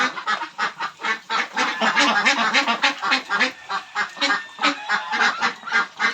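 Backyard Pekin ducks quack loudly and nearby in a rapid, rhythmic series of harsh, honking calls, several birds overlapping without pause.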